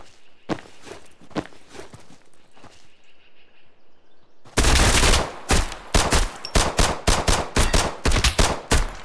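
Full-auto gunfire in the game Road to Vostok: a few scattered shots and rustling movement, then a loud sustained automatic burst of rapid, closely spaced rounds continuing to the end.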